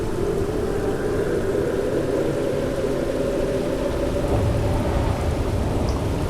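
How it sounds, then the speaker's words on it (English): Constant heavy rain pouring with a deep, rolling thunder rumble underneath in the video game Starfield, loud and steady throughout without any voices. "It's rather stormy."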